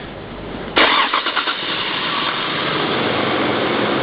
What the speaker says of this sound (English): let me start the car really quick